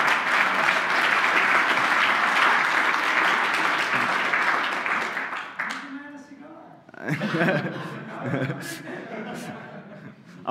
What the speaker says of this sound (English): I think we should get someone a special applause